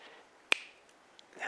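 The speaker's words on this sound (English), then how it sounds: "I had to learn how to snap my fingers." A single crisp finger snap rings out close and alone in a quiet room, followed by a faint soft tick and light rustling.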